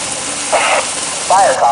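Short electronic whirring bursts from a toy fire truck as its ladder is raised, two brief warbling tones over a steady hum, close and fairly loud.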